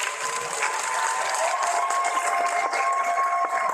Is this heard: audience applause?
yes